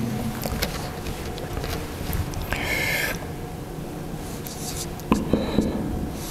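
Pen or marker writing on paper or board during a circuit theory lecture, soft close scratching strokes over a steady room hum, with a brief louder rub midway.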